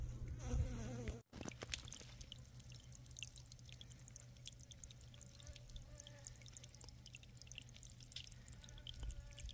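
Honeybees gather at a trickle of water in winter, their faint, steady buzzing hum running continuously alongside soft dripping and light background noise, with one brief dropout early on.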